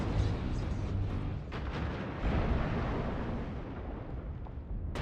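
Artillery strike explosions in the MechWarrior Online video game rumble in heavy, overlapping booms. The blasts merge into a dense, sustained roar that fades toward the end.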